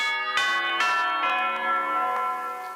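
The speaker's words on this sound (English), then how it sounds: "the chimes of a neighboring church struck the 4 quarters" A church's chimes ring out in a theatre staging of A Christmas Carol, several clear resonant bell strikes in quick succession, each ringing on and slowly fading, loud and alone.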